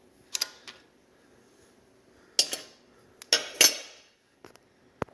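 Metal tool work on a 2006 Yamaha Raptor 700 crankcase bolt, loosened with an Allen wrench: scattered sharp metallic clinks and taps in separate bursts, close and fairly loud, with quiet gaps between.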